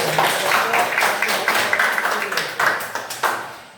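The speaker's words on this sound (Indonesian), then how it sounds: "Oke, tepuk tangan dulu." A group of students applauds after a class presentation, a dense, continuous clatter of many hands clapping at fairly loud volume, with brighter individual claps standing out near the end.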